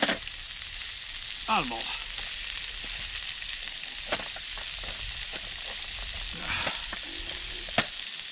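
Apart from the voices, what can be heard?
onions frying in a frying pan on a Trangia stove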